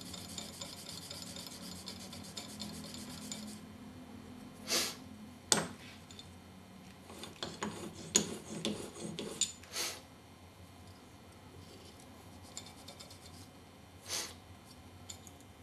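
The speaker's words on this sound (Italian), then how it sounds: "togliere la piccola bavetta dietro, passando di piatto il dorso dello scalpello" Back of a steel European woodworking chisel rubbed flat on a sharpening stone to remove the burr, a steady rasping scrape at first, then a handful of separate short strokes and pauses, close and alone.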